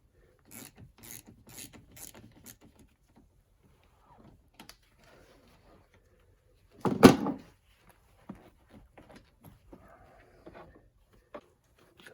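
A 10mm socket ratchet loosens the negative battery terminal on a 2011 Volkswagen Jetta, giving quick close clicking bursts early on and one louder rasping burst midway, with scattered faint clicks afterward.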